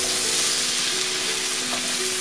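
Andouillette sausage frying in oil and butter in a pan, a steady, dense sizzle and crackle filling the whole stretch at close range with no voices.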